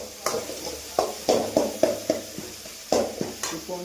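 Tomatoes and onions frying in a pan, stirred with repeated clattering scrapes of a utensil against the metal at an uneven rhythm, close by, over a faint background sizzle.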